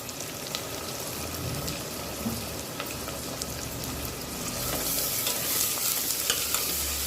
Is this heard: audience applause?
no